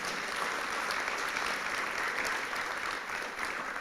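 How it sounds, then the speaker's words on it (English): An audience at a service dog graduation claps in a steady, dense round of applause, moderately distant and even throughout, with no talk over it. "Big round of applause."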